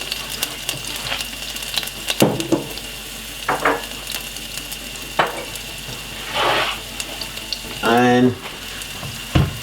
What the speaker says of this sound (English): I just crushed the garlic, put it in it, and fry it.